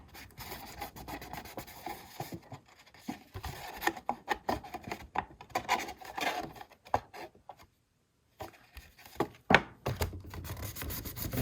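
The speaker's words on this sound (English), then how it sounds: "go ahead and burnish that down" Paper is burnished down onto a recipe memory box in quiet, close, irregular rubbing strokes, with a short silent pause partway through.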